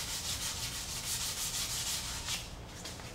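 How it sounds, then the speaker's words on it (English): Sandpaper rubs over the painted corners of a Peavey Reactor guitar body in steady, close strokes, a continuous scratchy hiss with no speech. "don't worry about sanding the paint because you're going to repaint it anyway"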